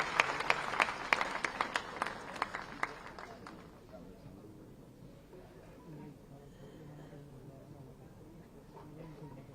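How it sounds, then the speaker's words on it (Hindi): Audience applause at the opening of the World Textile Conference in Ahmedabad welcoming the chief minister, loud crisp clapping for the first few seconds, then fading into quieter hall murmur and scattered claps. "एक बार जोरदार तालियों થઈ જાય"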